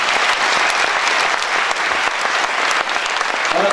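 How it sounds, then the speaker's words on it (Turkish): Loud, dense audience applause at a spring choir concert, continuous clapping from a full hall with no break. "Bu muhteşem, kocaman yürekli insanlara alkışlıyorum."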